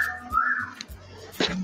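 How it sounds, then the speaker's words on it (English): Short whistles rise and dip in pitch, a couple of quick bursts close together, with faint background sounds between them. "Why are they whistling?"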